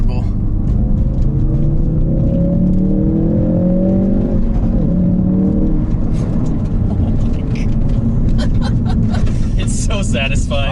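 A Ford Focus RS driven over rocks, heard as a loud constant engine drone with rising rev tones and rough rumbling from the terrain, with people talking inside the car throughout.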